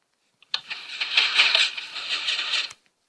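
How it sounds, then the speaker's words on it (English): A dense burst of overlapping mechanical clicks and clacks from 32 Minecraft pistons firing at once in Minecraft Pocket Edition, running for about two seconds before stopping abruptly. "that was the sound of 32 pistons."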